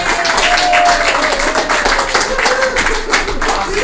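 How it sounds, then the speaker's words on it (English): A comedy show audience claps and cheers for a performer invited onstage, steady loud applause with scattered whoops and a brief raised voice, continuing throughout. "You can applaud for him"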